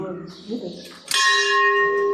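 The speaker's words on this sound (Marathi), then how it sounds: "समोरच्या जी घंटा आहे" A metal bell at Siddheshwar temple rings once with a sharp strike and a long, bright sustained ring, following brief talk and footsteps.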